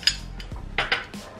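Green tea pancake batter with matcha powder, milk and rice bran oil being stirred in a bowl, a few quick scraping and clinking strokes of a utensil against the bowl, close and alone.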